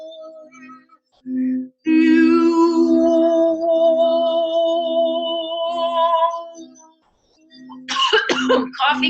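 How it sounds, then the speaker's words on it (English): Coughs break out at the end of a group voice-release session, after a long, sustained vocal tone. They come as a few loud, harsh bursts close to the microphone. "Coughing is excellent."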